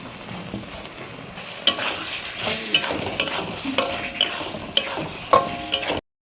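Potato pieces sautéing in oil in a pan with paneer and capsicum, steady frying sizzle broken by repeated sharp spatula scrapes and knocks at an irregular rhythm, close and fairly loud.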